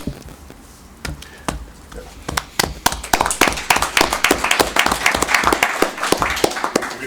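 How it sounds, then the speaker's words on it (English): A meeting audience claps after a talk, starting with a few scattered claps and building into steady, dense applause in a room. "We don't usually clap, so."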